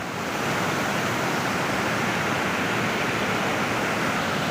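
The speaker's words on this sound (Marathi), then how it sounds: "हा धबधबा आपल्याला पाहायला मिळतोय" Steady, dense roar of rushing water, constant and full without pauses, like a powerful waterfall heard up close, from the overflowing Mahalakshmi lake at Peth Vadgaon.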